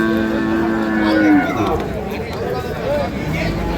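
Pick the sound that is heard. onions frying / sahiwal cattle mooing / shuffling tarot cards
sahiwal cattle mooing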